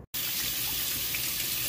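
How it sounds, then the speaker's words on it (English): Cold tap water pours steadily and loudly into a sink to rinse fish fillets. A brief silence comes first, then the close, even rush of the running faucet, with no talking. "we're gonna do a quick rinse in cold water on our fillets here"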